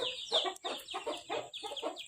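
Chickens raised in a village on rice and vegetables cluck close by in short, choppy bursts, several calls in quick succession with no talking.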